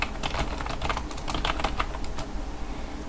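Fingers type steadily on a computer keyboard at close range, a quick irregular patter of key clicks with no voice over it.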